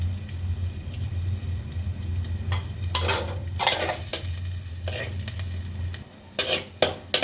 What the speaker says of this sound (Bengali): রসুন কুচিটা লাল করে ভেজে নেব